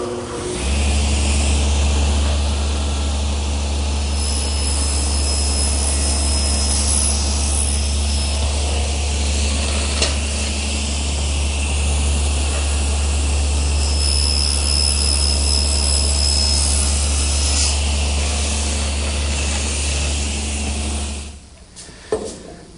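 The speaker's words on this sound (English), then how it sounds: "First, I want to make this shoulder cut at my table saw" A table saw with a guide block cutting a shoulder into a wooden piece for a butcher block: a loud, steady motor roar with a low hum runs without a break for about twenty seconds, then cuts off abruptly.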